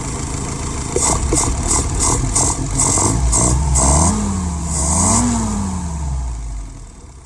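A YS 950S engine fires up close by and runs with a deep rumble, its pitch rising and falling through a couple of revs before easing back toward idle.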